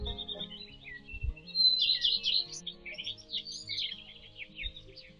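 Outdoor birdsong picked up by a Reolink security camera microphone: bright chirps and short warbling phrases come and go over several seconds, fairly clear against a quiet low background hum.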